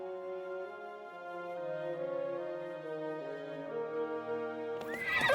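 Horses in the video game Masquerada: Songs and Shadows whinny with long, wavering tonal calls that hold steady and loud for several seconds, ending in a brief burst of noisy snorting.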